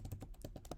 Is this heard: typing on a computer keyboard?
yes